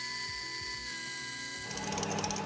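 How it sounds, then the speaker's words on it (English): A metal lathe hums with a steady motor whine as a twist drill opens out the hole in the end of a workpiece. A rougher, hissing cutting noise takes over partway through. "I began by opening out the hole in the end with a twist drill."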